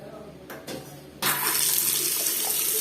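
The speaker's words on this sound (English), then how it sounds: "Now, turn on the tap. Water is flowing." A bathroom tap is opened and water gushes out in a loud, steady close stream after a few quiet handling clicks and knocks.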